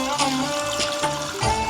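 Water poured into a bowl for making dough for sojja polelu, a brief trickling splash lasting under two seconds, with a faint voice in the background.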